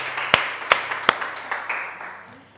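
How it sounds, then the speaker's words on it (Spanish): Congregation in a church breaks into a few sharp, separated claps, then a softer scattered patter of applause that fades out, heard nearby with a steady room hum underneath. "Dale un fuerte aplauso a Cristo Jesús"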